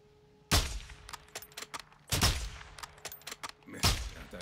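Three loud bursts of gunfire in Call of Duty: Modern Warfare 2, each with a long echoing tail, with smaller cracks and clicks scattered between them.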